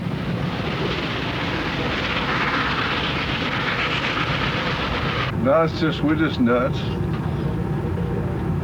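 N&W 1218 steam train running, a loud continuous rumbling roar of the moving train that fills the clip, with someone talking over it near the end.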